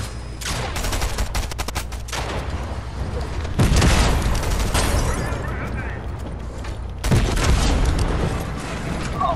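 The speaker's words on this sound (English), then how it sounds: "They're gonna explode the gas station." A gas station blows up in the Fortnite video game with a loud, dense roar of explosive bursts and crackling gunfire-like noise, swelling twice in heavy booming waves that fill the scene.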